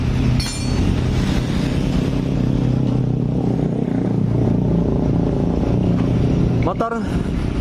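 A Honda Beat Deluxe scooter engine idles steadily after an oil change, a continuous close rumble running throughout, with people talking over it.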